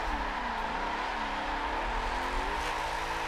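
A drifting car in the SSR Drift racing game, sliding with its e-brake pulled, gives a steady engine drone under a wavering, wailing tire squeal that carries on through the whole stretch without a break.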